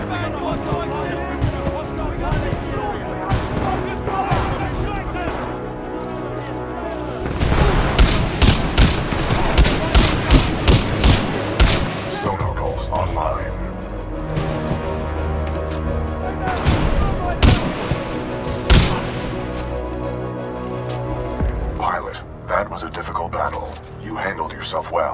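Artillery and gunfire in Titanfall 2: heavy sustained bursts of rapid shots and booming impacts, loudest midway, with a voice speaking over the battle at times.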